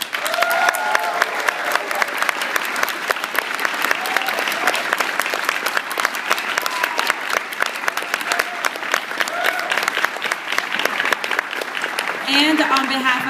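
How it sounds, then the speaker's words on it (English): An event audience gives a warm, sustained round of applause to welcome economist George Ayittey, dense clapping filling the room for over ten seconds with a brief swell of cheering near the end. "Please join me in welcoming him with a warm round of applause"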